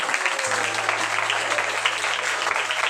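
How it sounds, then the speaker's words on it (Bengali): Applause for an honoured person at a Hindu rice-feeding ceremony with kirtan, a steady wash of many hands clapping together, loud and sustained across the clip with a low hum beneath. "ওনার জন্য সবাই জোরসে একটা করতালি হবে"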